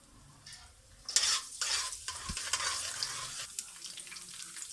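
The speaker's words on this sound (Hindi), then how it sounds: "उसमें सबसे पहले मैं 1 खाने का चम्मच ज़ीरा डाल दूंगी और इसके साथ ही मैं 1 गिट्ठी जो है वो चॉप करके लहसुन की डाल दूंगी।" Cumin seeds and chopped garlic dropped into hot oil burst into a bright, close sizzle that continues steadily, with a spoon scraping and stirring in the pan.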